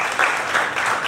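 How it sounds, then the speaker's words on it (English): Attendees at an annual general meeting applaud the council members, a steady, even patter of many hands clapping together throughout, moderately loud and without speech. "a real big round of applause to all the council members"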